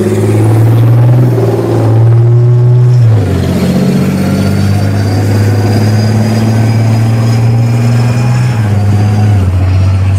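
A British Army tank fitted with the Barracuda camouflage system drives past at a tank show, its loud, close engine droning and shifting pitch as it moves, with no talk.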